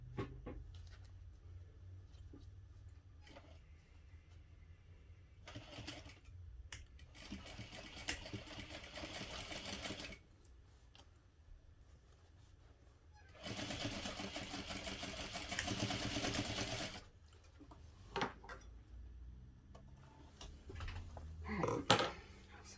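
A sewing machine stitches a backpack seam in short bursts and one longer run, with faint handling noises between the quiet stretches.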